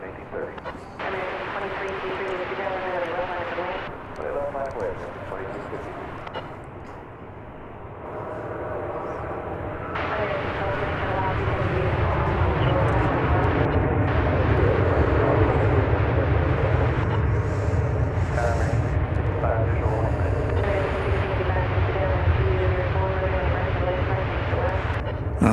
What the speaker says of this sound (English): Two-hour and 50-minute flight from Florida on that 737-800.